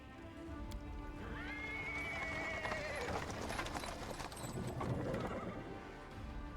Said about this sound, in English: He's interrupted by the sound of wheels rolling on the paving stones. A cart drawn by a sad little horse appears from around the corner.